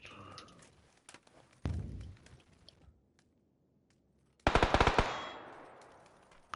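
Weapon fire in the PUBG battle royale game on PS5 comes as a sharp single shot and then a rapid burst of loud reports with trailing echo, separated by quiet stretches and soft thuds.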